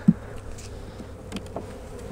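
Quiet, steady buzzing from many honey bees at an open brood box hums close by, with a few faint bumps and rustles over the drone.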